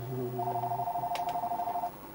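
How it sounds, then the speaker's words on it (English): A telephone rings in the Colecovision game H.E.R.O., a rapid electronic warbling trill that rises to a steady pulsing tone for about two seconds, then stops; fairly quiet and alone. "Phone."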